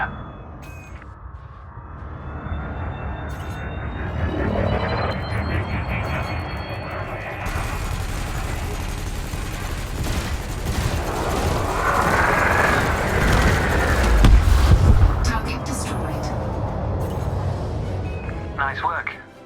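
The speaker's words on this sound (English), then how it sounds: "bring the craft into your sights and open fire" Rapid multi-cannon fire rakes a target drone in the Elite Dangerous space combat game, a dense, sustained rattle of cannon bursts layered with engine hum and explosions that builds toward a heavy blast near the end.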